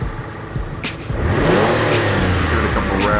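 A race car in GT Sport at Brands Hatch fires up and then revs. A few short blips come first, then a rising, sustained engine roar with climbing pitch, loud and close, with no talk.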